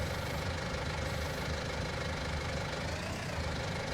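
A tractor engine in Farming Simulator 19 idles steadily with a dense, knocking rumble that holds constant throughout, loud and close, with no voices.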